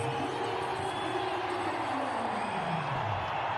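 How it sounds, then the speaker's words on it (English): Cricket stadium crowd at a T20 international roars in a dense, sustained wash of cheering after a wicket falls, loud and continuous throughout with no clear breaks. "The crowd's happy and about again"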